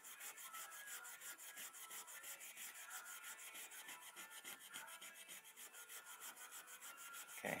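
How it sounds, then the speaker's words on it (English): A WW2 combat knife, a Remington Cutlery RH PAL 36, is rubbed with brass wool to strip rust, making a steady, rapid scratchy rasping in quick back-and-forth strokes, close and continuous throughout with no talking. "we're just going to hit this with some brass wool. See how much rust we can take off."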